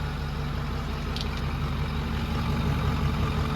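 A 6.4 diesel truck engine idles just after its first fire-up following a runaway, a steady, dense, close rumble running alone without pause.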